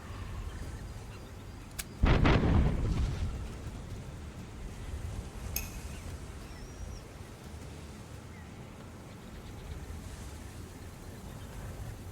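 A cannon fires once in the pirate naval video game Tortuga - A Pirate's Tale, a single loud boom that rings out and fades over a steady bed of ocean waves and wind.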